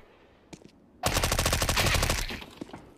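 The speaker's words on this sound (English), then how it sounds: "Flamey, very good use of the MP5 there." Rapid, loud MP5 submachine-gun fire in a CS:GO pro match on the Train map rings out as one sustained burst of closely spaced shots lasting about a second, after quiet ambient game sounds.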